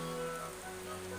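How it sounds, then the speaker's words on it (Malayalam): Heavy rain pouring outside on a stormy morning, a dense steady hiss with no gaps and no talk. "പുറത്ത് മഴ അതിഭയങ്കരമായി പെയ്തുകൊണ്ടിരിക്കുന്നൊരു ദിവസമാണ്"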